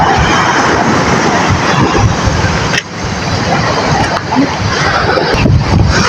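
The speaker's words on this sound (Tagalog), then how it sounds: "Ang dagat o ang lakas pa rin ng alon." Loud, rough surf churns and splashes continuously, heavy waves breaking close by with a constant rushing roar.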